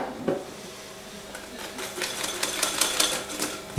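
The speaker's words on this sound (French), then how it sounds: "je vais prendre un petit peu de crème fouettée que je vais mettre dans le chocolat. Je vais bien mélanger." Whipped cream stirred into hot melted chocolate, a soft repetitive scraping and tapping of a utensil against the bowl, close and fairly quiet.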